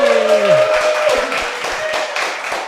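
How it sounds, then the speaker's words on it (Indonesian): Audience applause for Pramono Anung at a stand-up comedy podcast taping: dense clapping from a crowd, loud at first and easing slightly, with a sustained music tone under the opening moments. "Tepuk tangan untuk Pak Pramono Anung"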